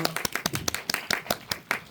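A cinema audience claps after a film screening at CGV Apgujeong, the individual hand claps sharp and distinct in a quick, uneven rhythm, close and fairly loud.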